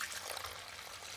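White vinegar pours into an oil drain pan over a rusty brake disc, a faint continuous trickle heard close by and alone.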